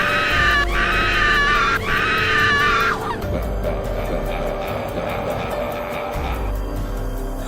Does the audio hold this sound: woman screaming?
yes